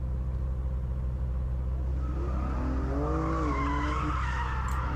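A car spins out with loud squealing tires over a constant, heavy engine drone, the screech rising and wavering for a couple of seconds near the middle.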